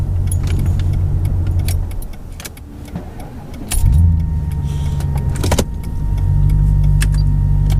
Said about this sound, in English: turn the car off and on again, just to force a reset